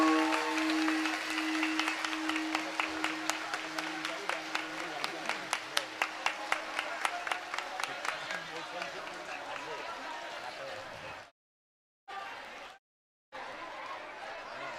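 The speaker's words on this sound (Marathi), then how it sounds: "सर्वांनी हात वर करून टाळ्या वाजवायच्या आहे." A kirtan crowd claps in unison with hands raised, a steady rhythmic beat that gathers clear, evenly spaced strikes before fading out, while a sustained tone and a voice carry on underneath; brief dropouts of silence near the end.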